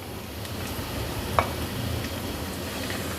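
Cumin seeds fry in hot oil, producing a soft, steady sizzle with faint crackle and one brief clink of a utensil midway, heard alone without talking.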